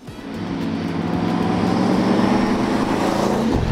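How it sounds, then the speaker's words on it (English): A 1971 Ford Thunderbird or 1973 Gran Torino classic car engine running steadily at close range, a low, even rumble that holds constant from start to finish with no talking. "Man, I like the sound of this car."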